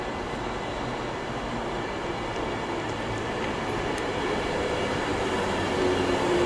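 A Virgin Trains Pendolino sits or moves slowly at Watford Junction, a steady mid-level station rumble with a faint electrical hum and a low drone building slightly toward the end.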